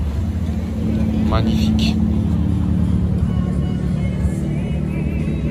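A Ferrari 812 GTS with Novitec tuning: a steady, loud V12 engine drone rolling past on a Monaco street, with someone speaking over it.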